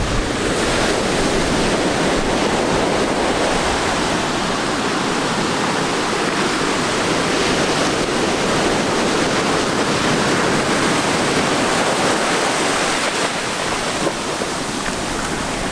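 Ocean surf breaking on a beach during shore fishing, a steady loud wash of waves rolling in continuously with no voices.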